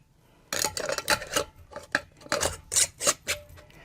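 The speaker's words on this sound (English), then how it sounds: "And then I'm going to put a lid on, fingertip tight." A metal lid being screwed fingertip-tight onto a glass canning jar of Mexican corn gives a close run of quick, irregular scraping clicks and gritty rasps over a few seconds.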